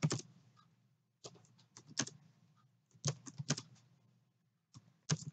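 Data keyed into a calculator, quiet clustered clicks of small keys pressed in short bursts with brief pauses between, close and soft with no talk.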